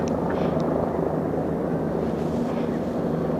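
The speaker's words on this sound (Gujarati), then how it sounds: "ત્યાં હેલિકોપ્ટર ઉતરી ગયું જો" A helicopter's steady rotor and engine roar fills the scene at close range as it lands on a helipad at Badrinath, constant and loud throughout with wind buffeting.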